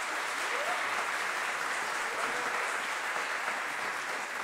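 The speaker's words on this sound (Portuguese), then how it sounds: "uma salva de palmas para esse coral" A hall audience applauds a school choir at a music centre, steady dense clapping holding at an even level for several seconds with no talk over it.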